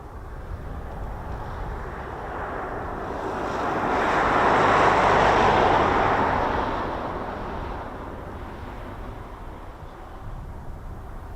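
Propeller-driven transport aircraft flying past in poor weather at a UK air show: a broad roar that rises to a peak midway through and fades again, with wind noise and no talk.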